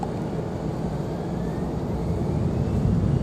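A departing airliner roars at Raleigh-Durham International Airport, a broad steady rumble of engines held at a distance and swelling slightly louder toward the end.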